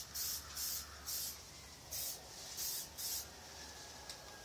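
Short bursts of spray paint hiss as a second coat goes onto an RC car body, six quick puffs in an uneven rhythm, close and fairly quiet with pauses between.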